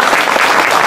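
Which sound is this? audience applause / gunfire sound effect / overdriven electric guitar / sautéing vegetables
audience applause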